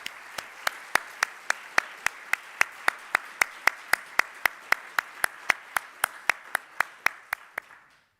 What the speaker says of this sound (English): I would like us all to give a round of applause to Horia and to thank him.